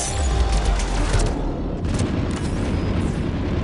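Rocket launcher explosions and gunfire in Mass Effect come as heavy booms and crackling shots layered into a loud, dense battle din, with a few sharper blasts standing out.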